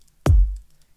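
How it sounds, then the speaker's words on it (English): Kick drum sample from a drum-pattern production session: a single punchy electronic kick with a sharp click attack and deep booming low tail that fades within half a second, heard alone. "We have our kick here, our new kick."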